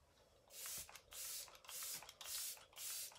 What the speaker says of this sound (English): I'm going to take the Setting Pretty setting spray,